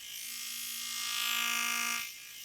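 A small battery-powered nail e-file runs at top speed with a steady high electric whine and buzz, fairly faint and close, then winds down abruptly near the end, with no talking.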